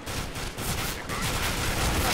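Rapid bursts of video game gunfire from an AK-style rifle crackle continuously and loudly, forming a dense fusillade with no pauses across the short stretch.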